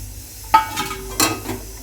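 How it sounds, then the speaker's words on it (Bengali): Fried fish pieces go into a simmering curry of papaya, pumpkin and mushroom, giving a couple of brief splashes and soft sizzles over a low, steady bubbling. "এবার মাছটা দিয়ে দেবো ঝোলের মধ্যে"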